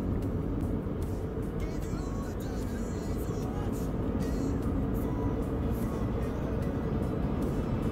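Steady car engine and road rumble from inside a vehicle driving along mountain roads, a constant broadband drone with no breaks.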